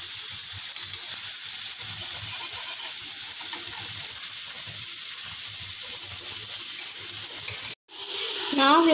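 Bitter gourd chips frying in oil give a continuous, even sizzle with a soft bubbling texture, broken by a brief dropout just before the end.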